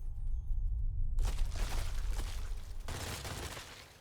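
Rapid gunfire from a gun in the video game Witchfire rattles out in dense, loud continuous volleys with a brief pause, close and alone.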